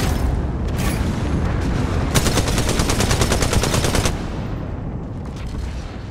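Gunfire in the battle royale game Apex Legends: a sustained automatic burst of rapid, loud shots, set against a dense roar of continuous battle noise.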